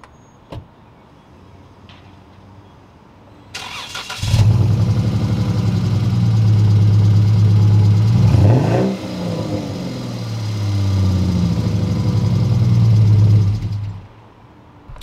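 A V6 car engine with cut exhaust pipes starts after a quiet lead-in, then roars and revs loudly and close up through several long pulls, ending abruptly.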